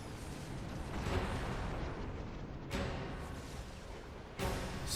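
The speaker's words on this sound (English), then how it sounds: "An explosion?" Explosions in a Xenoblade Chronicles 2 cutscene near the World Tree, a sustained rumbling roar broken by two sharp booming blasts, loud and continuous with no voices over them.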